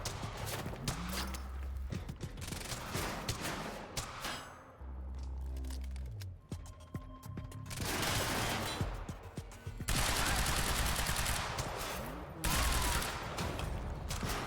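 Shotguns and other guns fire in rapid volleys in the Quantum Break video game. The blasts are loud and dense, come in repeated bursts with short lulls between them, and are mixed with game sounds.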